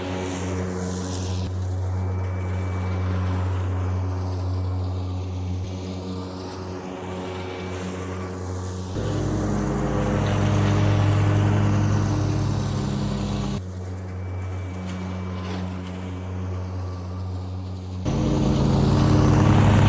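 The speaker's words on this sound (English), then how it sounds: "And the John Deere with the blades engaged at the highest speed," John Deere electric zero-turn mower running with its blades engaged at the highest speed, a steady whirring drone with a low hum that swells and shifts in level as it moves, close and continuous.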